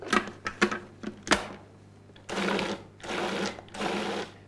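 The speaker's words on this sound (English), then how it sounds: "Add the sugar with the frozen pineapple chunks and then pulse several times to break up the fruit" Cuisinart DLC-10 food processor pulsing frozen pineapple chunks with sugar: a few sharp clattering knocks of fruit hitting the blade, then three short whirring pulses of the motor, each about a second long, close and moderately loud.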